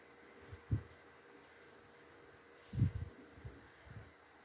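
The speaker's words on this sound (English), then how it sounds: "color with the pencil just to highlight the blue, more blue here" Colored pencil strokes on paper for a mixed media drawing, a few soft scratchy bursts at irregular moments, faint and close, against quiet background.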